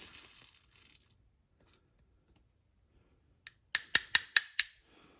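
Shotgun pellets from a 28 gauge shell poured onto a scale, a faint rustle followed by a quick series of five sharp metallic clicks in near silence.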